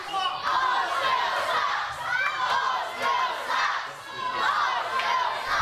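A wrestling crowd at a live W3L event chants and jeers at a heel wrestler, loud rhythmic group shouting that rises and falls in waves, with no speech over it.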